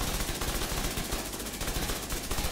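A weapon in The Division 2 fires rapidly and continuously, a dense run of fast automatic shots at steady loudness with no talk over it.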